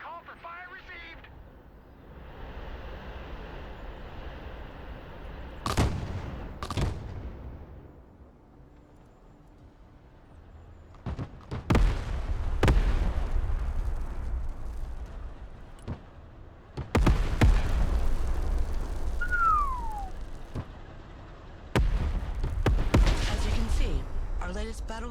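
Mortar artillery fire in the video game Broken Arrow, several heavy booms and blasts spread over the stretch with rumbling tails, mixed with radio-style voice callouts.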